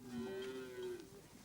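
Cattle in a Maasai herd low with a sustained, steady moo from fairly close by, set against a faint outdoor background with no talking.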